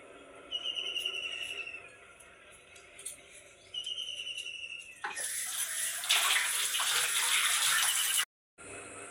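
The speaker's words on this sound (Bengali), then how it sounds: "এটাকে ধুয়ে নিয়ে আসবো হাত পাটা ধোবো" Running water from a tap rinses a kitchen blade and hands, a steady close splash that starts softly, grows much louder and fuller midway, then cuts off abruptly near the end.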